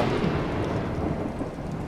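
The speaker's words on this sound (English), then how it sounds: "It's just a storm." A thunderstorm in the video game Bendy and the Dark Revival: a dense, steady roar of rain and low rumbling thunder fills the whole moment with no pauses.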